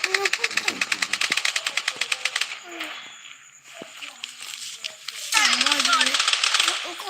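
Gunfire in the Blood Strike mobile shooter: a rapid automatic burst of evenly spaced shots opens loud and close, then scattered shots and a second burst follow, with a voice speaking in between.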